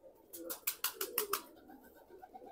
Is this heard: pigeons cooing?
yes